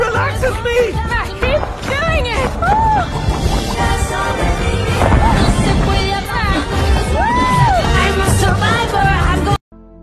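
A dense crowd of dancing people in the animated film Migration, with loud babble, whoops and bursts of cheering over music, continuous and close until an abrupt cutoff near the end.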